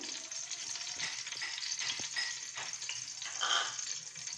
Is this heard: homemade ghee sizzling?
yes